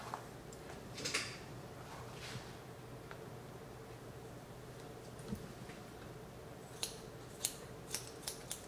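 Quiet scissors snip hair in short, irregular clicks during a one-length haircut, with a few sharper cuts clustered toward the end and no talking.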